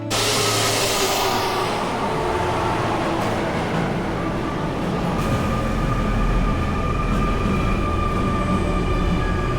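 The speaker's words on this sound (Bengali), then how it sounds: "দোতলা এই RER ট্রেন মোটামুটি ফাঁকাই।" A double-decker RER commuter train runs through the Paris suburbs, a steady close rumble of wheels on track with faint squeals and no talk.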